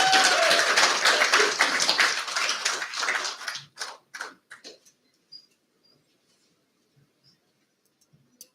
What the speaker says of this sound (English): Lord Albito, another round of applause, please.